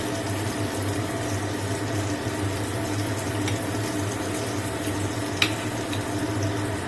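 Stuffed pointed gourd (parwal) frying in a pan, a steady hiss and sizzle of oil running evenly throughout, with one brief clink near the end.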